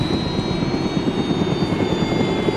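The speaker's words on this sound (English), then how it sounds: "My neighbor's leaving in his helicopter. That's why it's so loud." A neighbor's helicopter takes off and flies away, its loud rotor and engine roar holding steady and close with a faint high whine on top, and no voices.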